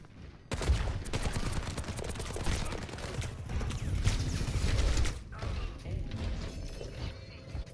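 Rapid automatic rifle fire from Soldier 76 in Overwatch 2, sustained bursts of close, loud shots running for several seconds before easing into quieter game sounds.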